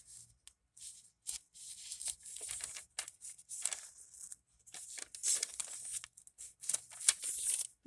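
Scissors slide and scrape under paper while a paper Bible cover is being made, giving close, crisp rustling and crinkling in irregular bursts with short pauses, with no talking.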